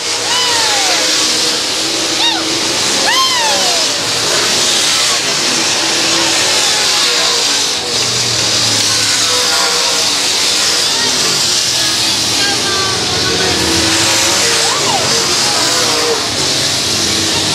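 Dirt track race cars roar at Monett Speedway during a four-state championship race, engines revving loudly and continuously as they run side by side, with high whines sweeping past and a commentator talking over the engines.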